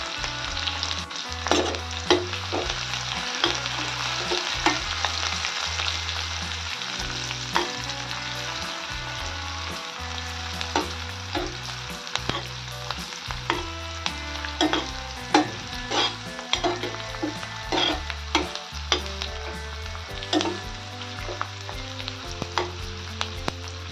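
Chopped onions frying in a pan for wheat flour upma (ukadpendi), a steady close sizzle with occasional stirring scrapes and clinks throughout, no voices.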